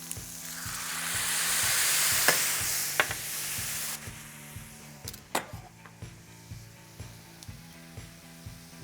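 Garlic softens in a hot pan for twice-cooked garlic shrimp, hissing loudly at first as lemon juice goes in, then easing into a quieter sizzle broken by sharp utensil clicks and stirring taps.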